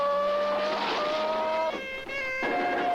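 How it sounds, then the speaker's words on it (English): Killer tomato sound effects from the Attack of the Killer Tomatoes trailer: wavering, whining tones that slide and shift in pitch over a constant rough background, moderately loud throughout. "I forgot about the sound effects for the tomatoes."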